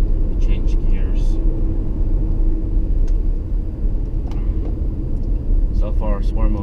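Acura RDX in sport mode accelerating on a canyon road, a steady loud engine and road rumble throughout with brief voices over it.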